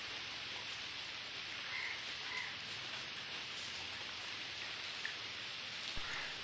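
Heavy rain falling at an 8th-century stone Shiva temple near Dhauli, a dense, steady hiss of drops on surfaces with a few faint distant calls.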